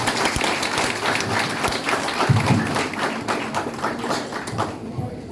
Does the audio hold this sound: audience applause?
yes